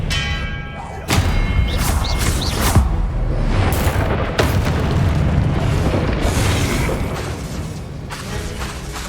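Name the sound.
Expelliarmus spell cast in Hogwarts Legacy video game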